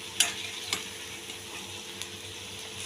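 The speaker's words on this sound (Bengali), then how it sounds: "এখন আমি বেশি আঁচে দিয়ে এগুলোকে ভেজে তুলে দেব।" Drumstick flower fritters frying in hot oil over high heat give a steady close sizzling hiss, broken by a few sharp pops near the start. No one speaks.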